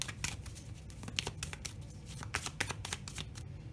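Tarot cards shuffled and drawn for an Aries monthly reading: crisp papery riffles and flicks come in quick irregular bursts, close and soft, with no speech over them.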